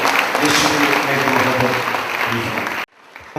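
Loud, dense clapping from a large crowd at a Christian prayer meeting, sustained for nearly three seconds before cutting off abruptly into near silence.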